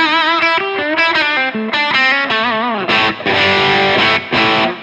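An electric guitar runs through a Kernom Ridge overdrive pedal on its higher gain setting. Distorted notes and bends lead into loud, crunchy chords that ring out with no talking over them.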